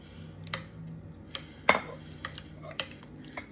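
A spoon stirring curd rice with cut grapes in a bowl, sparse clinks and scrapes with one sharper knock, close and quiet, no talking.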